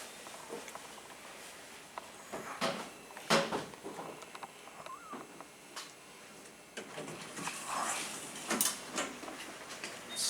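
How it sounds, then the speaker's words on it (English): A modernized Dover traction elevator running at the 4th and Grand parking ramp in Des Moines, Iowa: clicks, clunks and a creaky mechanical patter from the cab and doors, close and moderate, with no speech. "this is the elevator here at 4th and Grand Ramp here in Des Moines, Iowa"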